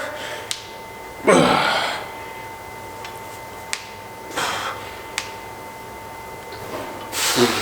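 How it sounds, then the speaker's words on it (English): Several sharp cracking pops from knee joints with crepitus during a warm-up, isolated and irregular, with a few louder crunchy bursts between them in a quiet room. "my knees pop and it sounds absolutely disgusting. It's called crepitus."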